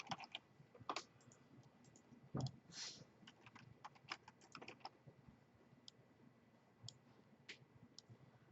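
Quiet, rapid clicking of keys on a computer keyboard while C# code is typed, in irregular bursts with short pauses between strokes, close and soft.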